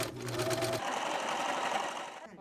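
A sewing machine stitching non-woven fabric into cloth masks, a fast rapid mechanical whir and clatter close up, running steadily, with voices talking over part of it.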